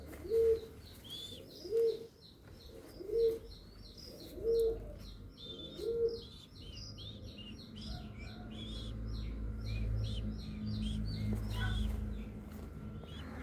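A sick pigeon gives five low, soft coos at a steady pace, then goes quiet under a faint background of chirping small birds and low rumble.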